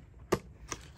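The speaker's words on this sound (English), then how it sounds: "So right here is my corner rounder." A handheld corner rounder punch snips the corner of a paper library card for a junk journal: one sharp crisp click, followed by a lighter second click and a faint third, close by and with no talk.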